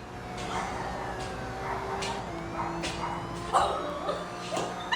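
Dog barking caught in a viral recording where the dog grabs the camera: a few sharp yips and barks ring out over a steady background hum, with a thin siren-like tone drifting underneath.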